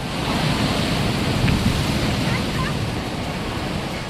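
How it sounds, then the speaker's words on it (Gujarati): High sea waves roll and crash at Dwarka on the Arabian Sea, a loud, unbroken roar of surf mixed with wind buffeting the microphone, steady from start to finish. "15 થી 20 ફૂટ ઊંચા મોજા ઉછળવા લાગ્યા."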